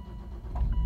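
A 2010 Volvo V50 wagon's engine cranks and catches in a short, close burst, rising low rumble toward the end with no talking.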